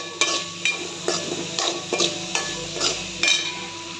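A spatula scrapes and stirs through grated coconut and curry leaves in a hot pan at regular intervals, over a soft background sizzle, close by.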